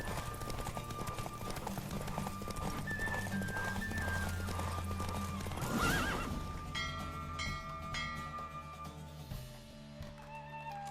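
Horse hooves clip-clop at speed during a race in The Witcher video game, with whinnies and neighs, steady and close beneath game music, easing off near the end.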